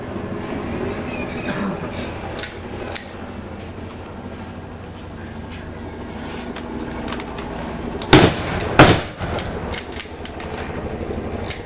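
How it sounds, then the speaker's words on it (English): A shotgun fires twice in quick succession, loud sharp blasts at a battle reenactment demonstration close to the crowd, amid ongoing crowd murmur and outdoor background noise. "we're going to demonstrate the firing on the shotgun"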